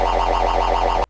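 A riddim-style synth bass built in Phase Plant, its tone pulsing in a steady triplet LFO wobble, loud and continuous for about a second before cutting off abruptly.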